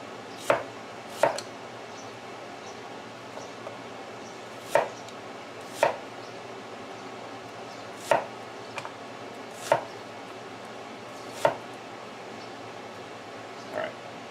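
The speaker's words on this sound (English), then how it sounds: "I'm going to chop this smaller and use that for the saute" Knife chopping an onion on a cutting board for a sauté, about nine sharp, separate chops spaced irregularly over a quiet kitchen background.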